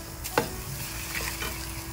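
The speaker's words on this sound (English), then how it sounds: "Now to that, we're gonna add the riso arborio and allow it to toast just a bit." Arborio rice being stirred and toasted with translucent onions in a hot pan, giving a steady soft sizzle with a single sharp scrape of the spoon against the pan early on.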